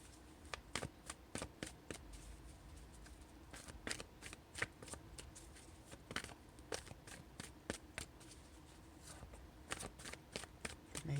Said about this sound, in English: I need to organize my cards a little bit.